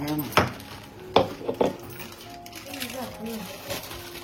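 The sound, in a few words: tapping heavy mixer grinder jar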